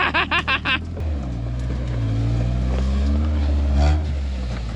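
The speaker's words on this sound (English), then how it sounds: "Rainforest rock crawling at its finest here." Off-road trucks rock crawling through rainforest, a low engine drone rising and falling as the throttle works, close and steady after a short burst of rapid knocking at the start.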